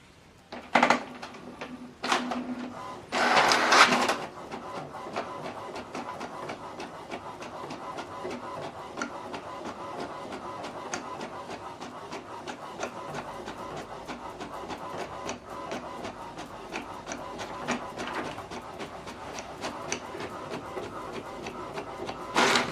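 HP Deskjet printer running a print job, a steady mechanical whir and clatter sustained for about twenty seconds after a few brief clunks at the start, moderately loud with no talking.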